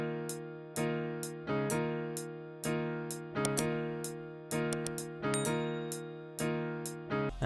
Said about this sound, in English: there's a new piano pattern playing, which sounds like this